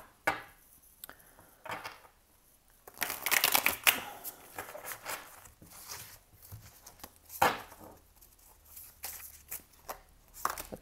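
Quick riffling bursts of tarot cards being shuffled, several shuffles in a row with short pauses, close and fairly quiet, no talking.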